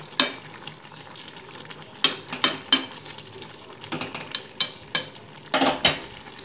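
Spoon stirring fried morola fish into a simmering vegetable curry in a pan, a quiet sizzle broken by a run of sharp scrapes and clacks that come in quick bursts, close and fairly loud.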